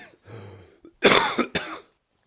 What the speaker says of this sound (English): you can cough like you're just doing there